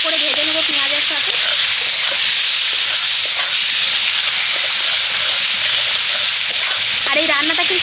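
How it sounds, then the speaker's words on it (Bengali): Tomato and onion frying with salt in a pan for a fish curry, a loud close steady sizzle with occasional stirring scrapes, and a voice briefly heard at the start and end. "ভালো করে একটু নেড়ে চেড়ে টমেটোটাকে ভালো করে ভেজে নেবো পেঁয়াজের সাথে"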